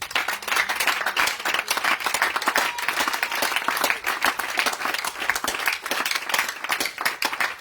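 A congregation at a prayer healing evening in Grand-Bassam applauds loudly and steadily, dense rapid clapping filling the space with faint cheering mixed in, close and sustained throughout.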